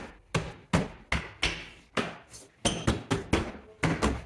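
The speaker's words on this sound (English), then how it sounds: "line it up into place, work our way around, snapping all of the plastic clips" Plastic clips on a 2012-2016 Subaru Impreza inner door panel being snapped into place, a run of loud close knocks and thuds, a dozen in uneven rhythm.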